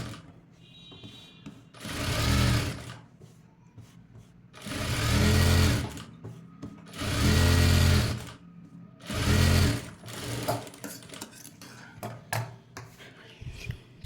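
Sewing machine top-stitching piping on a blouse, running in four distinct bursts of steady mechanical whirring, each about one to two seconds long, separated by short pauses with faint handling noise.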